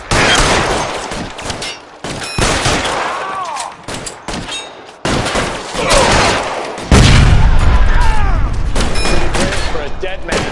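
Bursts of gunfire in the crime game L.A. Noire, several loud volleys and booms spread across the scene, mixed with voices talking over the shooting.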